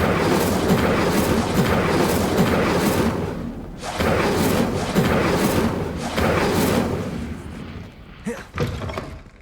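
Fire spell cast over and over in Hogwarts Legacy, a dense roaring whoosh that stays loud and steady for several seconds, with brief dips between bursts and faint thuds near the end.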